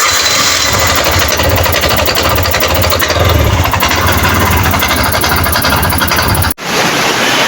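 A 236cc motorcycle engine with a clogged injector runs steadily and weakly up close, a loud buzzing drone with rapid rattling pulses before it briefly cuts out near the end and picks up again.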